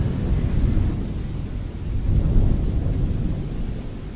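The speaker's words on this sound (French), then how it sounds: "il semblerait qu'un orage nous surprenne" A mountain thunderstorm rumbles low and continuously over steady heavy rain, with a swelling roll of thunder midway through; there are no voices.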